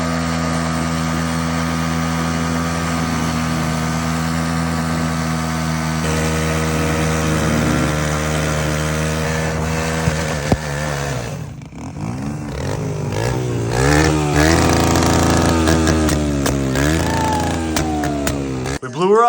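A Honda CRF250RX dirt bike with loose sprocket bolts idles and revs loudly up close, its engine pitch wavering before a sudden break and rough, sputtering revs.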